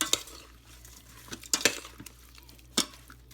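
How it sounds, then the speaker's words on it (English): A utensil stirs stroganoff seasoning into the inner pot of an Instant Pot, giving a few sharp metallic scrapes and clinks spread unevenly over a quiet background. "stir it up a little bit"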